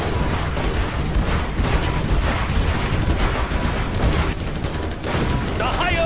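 Cannon fire in the Command & Conquer Generals Zero Hour video game, a dense, continuous barrage of booming blasts and gunfire layered with battle noise for the whole stretch, loud and close, with game voices mixed in.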